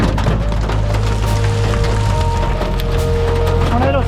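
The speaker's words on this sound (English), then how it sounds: "So we're just gonna have to ride out this hail core." Hail hammers a storm chaser's vehicle during an Oklahoma tornado chase, a loud, dense, continuous clatter of impacts close on the body with a low rumbling undertone.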